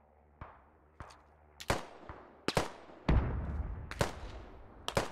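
Infantry gunfire in the tactical shooter Squad, a string of separate sharp rifle cracks with echoing tails, some distant and some closer, spaced irregularly and growing denser toward the end, with no talking.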